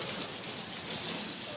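Heavy rain pours down steadily while people shelter under a roof during a rainy-day outing, a dense, even hiss that never lets up across the short moment.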